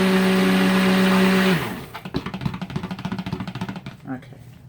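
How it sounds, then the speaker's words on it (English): A blender whirs steadily for about a second and a half while mixing green peppermint colorant for loofah soap, then winds down into a series of irregular scraping and knocking sounds. "So we'll get that blended."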